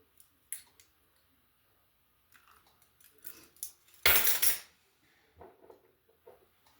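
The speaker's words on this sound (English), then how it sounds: "Stir that up" A utensil stirring lemon juice into a creamy coleslaw dressing in a bowl, soft irregular clicks and scrapes with a louder burst of clattering midway, quiet between.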